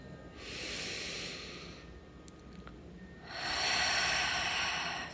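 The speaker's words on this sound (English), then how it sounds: "Taking 3 deep breaths." Slow deep breathing, close and steady, with two long airy exhalations separated by a quieter pause, calm and unhurried.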